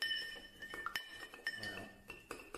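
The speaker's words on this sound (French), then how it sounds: "Et une fois que c'est fait, je vais remuer." A spoon stirs coloured sugar liquid in a glass for a chemistry cocktail demonstration, giving a run of bright, irregular clinks and taps against the glass, close up and without talk.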